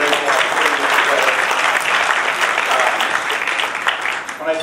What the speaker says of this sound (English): I think we need to deserve our host a round of applause.